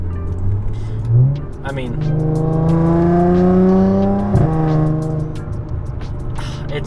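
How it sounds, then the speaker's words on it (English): An Audi S4's valved exhaust, valves open, drones loudly and rises in pitch as the engine accelerates, then drops away. Someone speaks briefly over the engine. "I enjoy hearing the exhaust sound."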